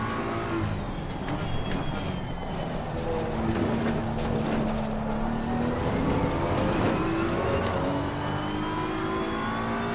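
A BMW race car engine in Assetto Corsa Competizione at Imola roars steadily and loud, with revving pitch sweeps rising and falling through gear changes throughout, and no talk over it.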